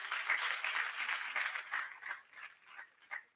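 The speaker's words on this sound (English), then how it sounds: "Clap for yourselves, please." University audience at a conference in Liberia clapping, a burst of applause that starts full and thins out into scattered claps over a few seconds.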